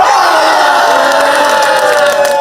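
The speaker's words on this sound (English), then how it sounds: "The announced wrestlers come out with all the swag and cheering from their supporters" A loud, continuous roar of a crowd cheering and shouting as wrestlers make their entrance at a Softground wrestling event, the noise sustained without a break.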